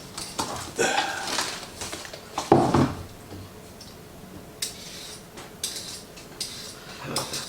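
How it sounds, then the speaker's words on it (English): Carrots being peeled by hand in a kitchen during food prep, giving quiet, irregular scraping strokes and light clinks, with one louder rasp near the middle, heard close and alone. "So let me peel some carrots."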